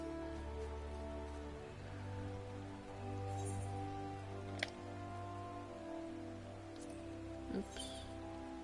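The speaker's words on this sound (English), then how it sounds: "Oh my goodness, it's just raining everywhere." Rain in Final Fantasy XIV falls as a steady, soft hiss over a low droning ambient music bed, with a couple of faint clicks and no break in the patter.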